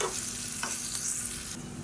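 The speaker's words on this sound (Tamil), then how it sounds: "இப்போ இந்த வெங்காயம் வந்து நல்லா வதங்கணும்" Onions sautéing in coconut oil for a Tamil-style kulambu, a steady close sizzle and frying crackle with occasional stirring scrapes, running continuously with no voices.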